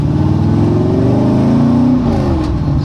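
An off-road vehicle's engine idles and revs steadily as it backs out of a driveway in reverse, a loud close continuous drone with rising and falling pitch and no talk.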